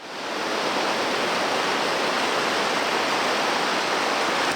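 Twin Falls in Yoho National Park rushes in a loud, steady roar of falling water, a dense broadband hiss with no breaks.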